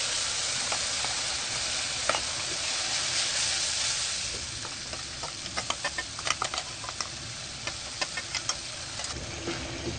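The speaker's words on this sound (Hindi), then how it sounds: "पाँच से 6 मिनट हम भूनेंगे ताकि लहसुन वगैरह अच्छे से फ्राई हो जाए।" Garlic spice paste with Kashmiri red chilli and turmeric fries in a pan for spicy garlic potatoes: a continuous close sizzle, joined in the second half by a series of quick spoon clicks and scrapes as it is stirred; no talking.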